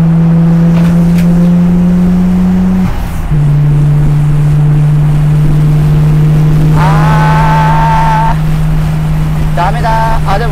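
A car on a Japanese highway passes a slow truck, its steady engine drone holding a constant pitch with a brief shift partway through, and a higher whining tone rising over it near the end.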